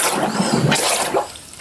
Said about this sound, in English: watch the submarine blow all the blue water out and fill itself with air